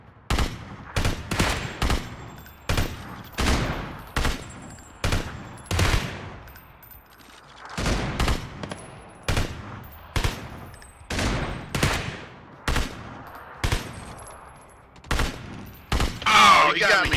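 Video game gunfire with about a dozen sharp, loud shots or short bursts at an irregular, fairly steady pace. A voice talks between some of the shots.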